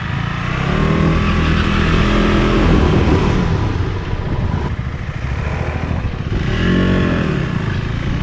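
A 2025 Suzuki DR-Z4SM street motorcycle engine is revved hard and close, rising and falling through several loud blips with a deep, gruff exhaust note and no talking over it.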